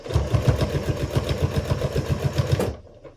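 A sewing machine stitches binding onto a quilt in a steady, rapid run of needle strokes, close and loud, before it stops abruptly near the end and leaves near silence.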